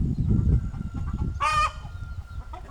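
Farm chickens clucking and murmuring close by on a sunny day, with one short, bright rooster-like call rising briefly in the middle, over a busy low background of birds and movement.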